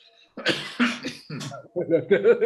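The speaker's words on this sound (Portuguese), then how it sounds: "Tossiu aí, ó." A few short coughs in quick succession, fairly close, followed by someone talking.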